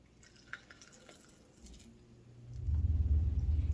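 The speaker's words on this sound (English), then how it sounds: "we're going to pour it into our classic batter bowl" Faint drips and wet squishing give way to a steady, thick pour of raspberry sorbet mixture into a batter bowl that swells and continues to the end.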